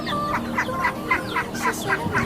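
Chickens cluck in a steady run of short, repeated calls outdoors in the countryside, close and fairly loud.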